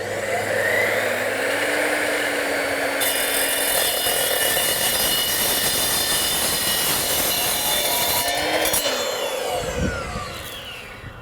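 A saw cuts through 1/4 inch steel square tubing, a loud, continuous grinding screech with shrill metallic ringing that holds steady for about nine seconds before fading as the cut finishes.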